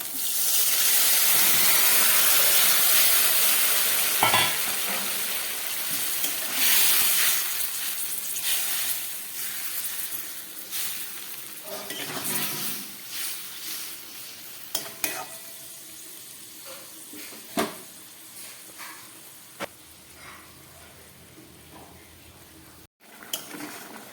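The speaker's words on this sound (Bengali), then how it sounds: "মাছের ঝোলটা ফুটে উঠেছে" Singi fish curry bubbles and simmers in a pot, giving a steady hiss and sizzle up close, with occasional stirring clinks and spatters.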